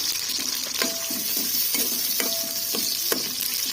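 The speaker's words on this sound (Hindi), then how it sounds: "ऑयल हमारा गर्म हो गया, अब इसमें हम प्याज डालते हैं" Onions frying in hot oil in a pan for a home-cooked aloo gosht, a steady close sizzle with a few sharp clicks and stirring scrapes, no voices.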